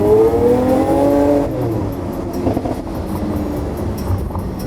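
Sports car exhaust during a short acceleration pull on a road, loud rising engine harmonics for about a second and a half, then a steady rumbling drone as the run continues.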